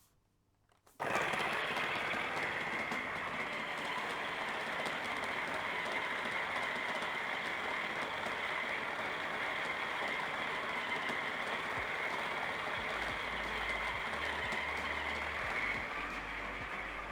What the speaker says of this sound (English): so that it doesn't clog up the grinder, because they get quite sticky,